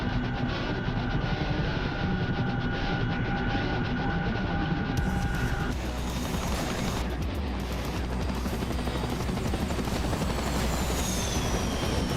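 An Apache attack helicopter in a video game, flying over Afghanistan, gives a steady rotor and turbine drone throughout, with a high whine that drops out partway and a shifting tone later.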